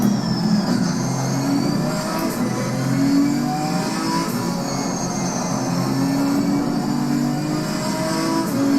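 A GT4 race car in Assetto Corsa Competizione on track, its engine holding a steady, loud, close drone that swells and eases as revs rise and fall through gears.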